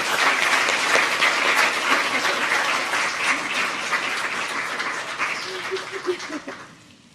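An audience at a school district board meeting claps in a loud, sustained round of applause that fills the room and gradually tapers off, with a few voices mixed in underneath.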